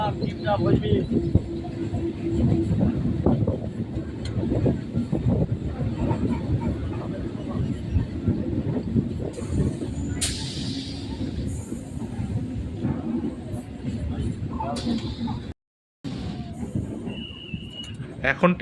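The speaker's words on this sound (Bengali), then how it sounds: "ঢুকছে সূর্যপুর স্টেশনে" A train rolls into Suryapur station on the Baruipur to Lakshmikantapur line, a loud continuous rumble and clatter of wheels on track with a brief dropout, while someone talks over it.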